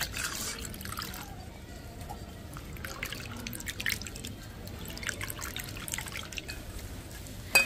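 Soft sloshing and dripping as flattened rice (chira) is gently washed by hand in a bowl of water, quiet and close, with light splashes and trickles.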